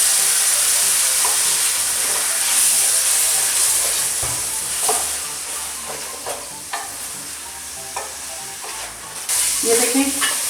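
Soaked mash daal lentils fried in a pot, giving a loud, continuous sizzle broken by intermittent stirring scrapes and clinks, close up with no voices.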